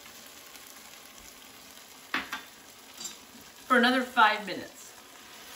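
Onions caramelize with a spoonful of demerara cane sugar in a pan for vegan French onion soup, giving a quiet, steady sizzle beneath brief spoken words.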